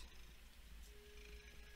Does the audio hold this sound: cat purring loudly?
yes